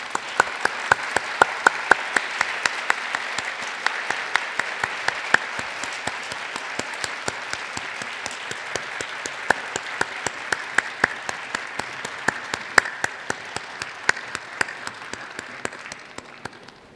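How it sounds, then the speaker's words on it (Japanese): Audience applause at a coming-of-age ceremony in Kariya as guests and organizers file out, a steady broad clapping wash from many hands running throughout with sharp individual claps standing out, fading slightly at the end. "どうぞ皆様、大きな拍手でお送りください。"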